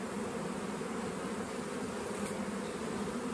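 A steady, dense buzzing hum of honeybees flying around their hive, continuous and close with no talking.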